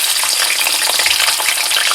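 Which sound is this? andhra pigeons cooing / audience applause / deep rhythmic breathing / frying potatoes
frying potatoes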